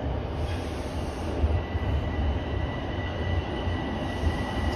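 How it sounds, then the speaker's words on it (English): A Toronto TTC Line 1 northbound subway train rumbles steadily into Davisville station at night, a continuous low roar of wheels on rails with a faint high squeal running throughout. "Here comes the northbound train"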